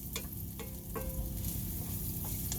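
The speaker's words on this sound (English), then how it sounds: "I'm just caramelizing one onion at the moment, chopped up onion" Chopped onion caramelizing in a pan for a Bolognese sizzles with a soft, continuous frying hiss, broken by a few faint clicks and light stirring taps, close and steady.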